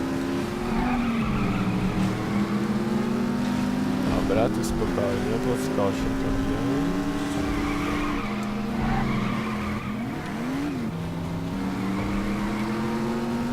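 Tires squeal as a car skids through corners during a bombing race in The Saboteur video game, long wavering squeals running almost throughout with engine noise beneath, while someone talks over it.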